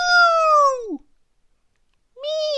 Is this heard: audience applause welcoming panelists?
no